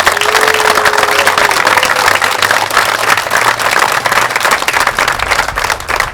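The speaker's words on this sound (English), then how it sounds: "Let's give all those folks a round of applause." Outdoor crowd at a law enforcement torch run event gives loud, continuous applause for police officials, dense clapping sustained throughout.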